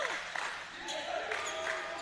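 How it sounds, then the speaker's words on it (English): A basketball crowd at a high school prep game cheers and claps in a brief, moderately loud swell, with a commentator's voice mixed in. "Crowd gets into it."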